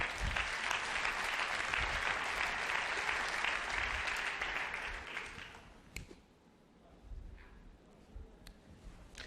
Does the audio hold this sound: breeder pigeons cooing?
no